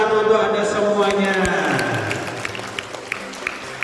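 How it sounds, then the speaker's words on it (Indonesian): A seminar audience on water-spring conservation claps together, the applause overlapping a speaker's voice at first and thinning into scattered claps. "tepuk tangan untuk Anda semuanya"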